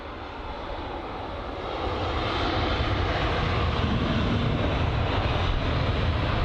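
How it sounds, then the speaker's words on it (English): A British Airways A320neo airliner comes in to land at Heathrow. Its engines give a steady, broad roar that grows louder partway through and then holds close and strong, with no talk. "This is the BA 320 Neo that's just about to touch down."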